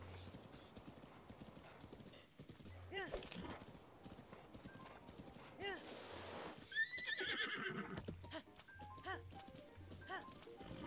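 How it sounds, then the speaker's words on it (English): Horse hooves clip-clop steadily alongside repeated neighs and whinnies in Zelda: Breath of the Wild, fairly close and clear, with people talking over the sounds at times. "I think that's just the horse noise."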